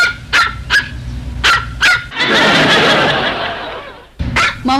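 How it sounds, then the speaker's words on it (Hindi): A dog on a poorly dubbed television show barks in a series of sharp, loud yaps, broken by a longer burst of noisy sound midway before the barking resumes. "ऐसे लगा जैसे कुत्ता भौंके।"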